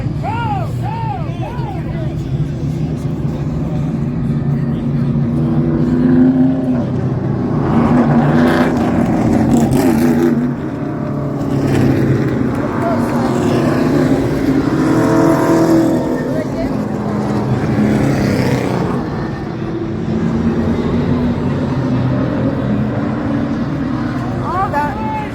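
Super late model race cars roar around an oval track in a steady, loud wash of engine drone, with revs rising and falling as the pack passes, while people talk over the noise.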